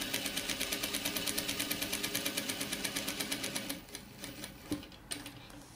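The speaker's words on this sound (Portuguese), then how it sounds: "Eu aqui nessa máquina, eu trabalho com um pé de 1/4 de polegada." Sewing machine stitches a patchwork spider web block with a 1/4-inch presser foot, a fast, even rhythmic clatter for about four seconds before stopping, followed by a few quieter handling clicks.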